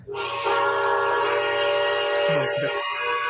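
Steady, loud multi-tone whistle from a model train with TMCC tube rail sound electronics, held for about three seconds, with faint talk underneath near the end.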